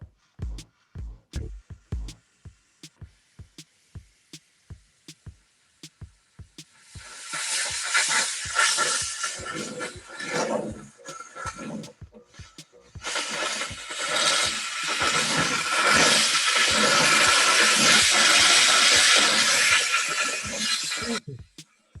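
A steam cleaner releases a loud, steady hiss of steam in two long blasts, preceded by a series of sharp clicks and pops, with a brief pause between the bursts.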